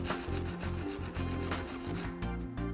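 A hammer head is rubbed back and forth on coarse sandpaper in steady, rasping scrubbing strokes, close and continuous with no voices.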